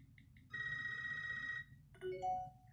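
A house phone rings in a Scream horror-movie trailer, a steady electronic ring for about a second, then a few brighter tones and chimes follow over a low rumbling background.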